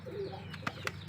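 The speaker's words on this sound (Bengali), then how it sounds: "দেখতে পাচ্ছেন কার্টুনের ভিতর কবুতরগুলো ভরলাম।" Koka pigeons shut in a cardboard delivery carton make a low murmuring coo, broken by a few sharp taps or scuffs from inside the box.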